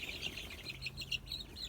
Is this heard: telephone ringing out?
no